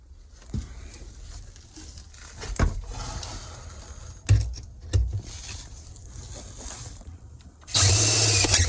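A power drill whirs in short bursts with brief pauses, ending in a loud sustained high-pitched grind as a 1/4-inch bit bores out a hollow metal rivet in a Sprinter T1N van floor.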